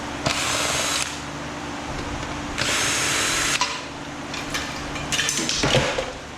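A power drill unscrews fasteners from the aluminum frame of a 360 photography booth. Close, loud whirring bursts of a few seconds each are separated by quieter handling clatter.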